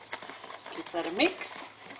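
Butter marinade for roast chicken is stirred in a bowl, giving soft scraping and sloshing that builds to a louder pass midway, with what sounds like a voice underneath.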